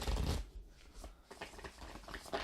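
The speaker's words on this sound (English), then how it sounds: "Now, this is calling to be riffle shuffled." Riffle shuffle of a tarot deck, a quick burst of flicking cards at the start followed by softer shuffling handling noises and taps, close and alone.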